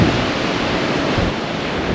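Sea surf pounding against the cliffs of the Holderness coast at Easington, a steady broadband roar with gusty wind noise over the microphone, continuous and fairly loud for two seconds with no voices.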